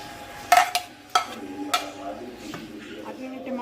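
Chopped tomatoes, nine of them, dropped into hot oil in a pot for chicken Bombay biryani. A few sharp clatters and bursts of sizzling give way to a steady soft frying hiss.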